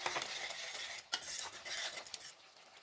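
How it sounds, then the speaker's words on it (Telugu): A spoon scrapes and clatters in a pan as chilli powder is stirred into a fish curry with mango. The metallic stirring strokes come close and repeat unevenly over a soft background hiss, with no voices. "ఒక చెంచా కారం వేసుకుందాం. ఒకసారి మంచిగా కలుపుదాం."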